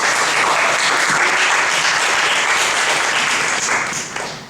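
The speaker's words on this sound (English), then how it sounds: "A round of applause for all our panelists." A hall audience at a library's tenth-anniversary event applauds its panelists, dense sustained clapping that holds steady for several seconds and then tapers off near the end.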